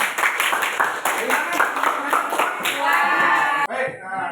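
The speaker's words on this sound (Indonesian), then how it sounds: "Tepuk tangan." Students in a classroom clap in quick bursts, loud and close. Chatter mixes in, and the clapping breaks off abruptly near the end.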